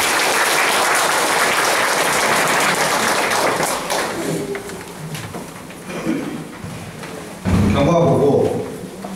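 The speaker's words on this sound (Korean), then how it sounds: "큰 박수로 맞이해주시기 바랍니다." Members at a Korean housing redevelopment association general meeting give a big round of applause, dense clapping filling the room that thins out, followed by a few thuds and a short burst of talk near the end.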